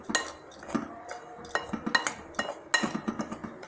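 A spoon scrapes and clinks against a bowl while semolina and gram flour are mixed with black salt, giving repeated rhythmic clinking strokes, close and moderately loud, with no talk.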